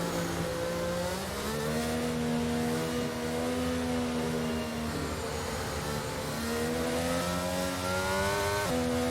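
F1 car engine from the F1 22 racing game, fitted with a fresh engine on a lap at Brazil or Abu Dhabi, droning steadily with rising and falling pitch through gear changes, loud and continuous throughout with no talk.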